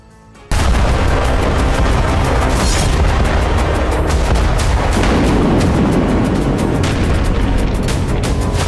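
Explosions and blasts from landmines in Russia–Ukraine war footage in Zaporizhzhia, where a Russian military convoy burned; a loud, dense barrage of booms and gunfire-like cracks starts abruptly and continues without pause, with no talking.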